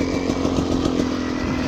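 A 2018 Beta 300 RR two-stroke dirt bike engine runs with a rapid, raspy buzzing drone, close and steady throughout.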